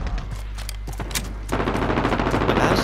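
Sentry guns firing in the video game Call of Duty Modern Warfare during a team deathmatch: scattered shots at first, then a dense, sustained rapid burst of automatic fire, loud and continuous with no talk.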